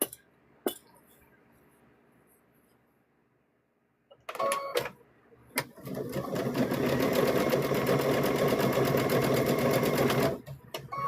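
A sewing machine stitches fabric pieces for a stuffed bear, starting with a few short bursts and clicks before settling into a long, steady, loud run of stitching that ends abruptly near the close.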